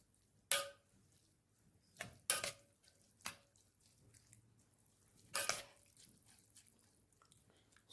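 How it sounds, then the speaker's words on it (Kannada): A spoon stirs rice and water in a bowl, giving a few sharp, faint clinks and wet squelches spaced irregularly over quiet background. "ಸ್ವಲ್ಪ ಸ್ಪೂನಿಂದ ಮಿಕ್ಸ್ ಮಾಡಿ"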